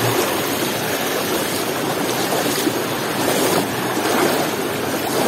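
A steady, loud rush of flowing water fills the scene, broad and constant like a river current, with no voices.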